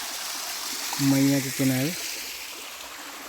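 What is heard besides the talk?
small waterfall stream flowing into the Narmada river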